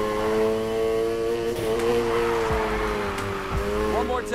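A car engine in Need for Speed Heat holds a sustained, strained drone mid-drift, pitch wavering as the gas is held, with brief thumps and a chirp near the end.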